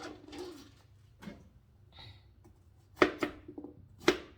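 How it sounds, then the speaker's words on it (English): Yellow gooseneck squash sliced with a knife on a board, with sparse soft cuts and then several crisp close knocks of the blade against the board. "Take my knife and I slice them as such."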